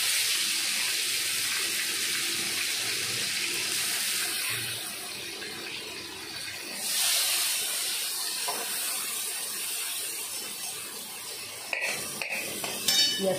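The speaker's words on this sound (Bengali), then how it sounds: "পেঁয়াজটা একটু ভাজা ভাজা করে নিই।" Onions sizzling in hot oil in a pan after a tempering of cumin, chilies and bay leaves, alongside fried pointed gourd, prawns and potatoes; a steady, loud broadband hiss runs throughout with a few clicks near the end.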